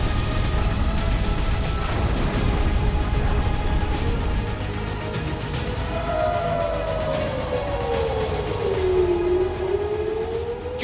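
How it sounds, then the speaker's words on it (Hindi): A war siren in Jerusalem wails through dense background noise, its tone rising and falling slowly in the second half, loud and continuous over a steady roar. "क्यों यहाँ पर आजकल जंग का सायरन बज रहा है?"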